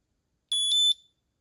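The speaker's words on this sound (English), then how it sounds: "you want to press this once and it'll make a beeping," An Ekster Finder Card tracker gives a short, high-pitched electronic beep made of three quick pulses run together, clean and alone in silence.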